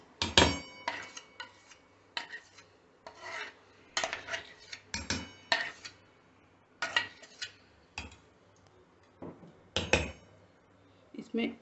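A spoon scrapes and clinks against a pot while thick dahi vada batter is transferred into it, giving repeated close scraping strokes and light metallic taps at an irregular rhythm.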